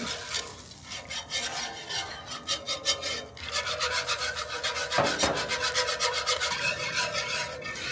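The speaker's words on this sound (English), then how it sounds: "Now a cup of milk. And we're just going to whisk that until it all is combined." A whisk scrapes and swirls rapidly through milk being combined into a beer cheese sauce in a pan, giving close, rhythmic rasping strokes with a brief clink partway through.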